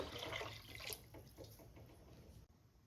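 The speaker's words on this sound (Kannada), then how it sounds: "ಇವಾಗ ನೀರನ್ನ ಆ್ಯಡ್ ಮಾಡ್ಕೋತಾ ಇದ್ದೀನಿ" Water is poured into a pot of tomato rasam, a faint, brief splashing trickle lasting a couple of seconds in a quiet kitchen.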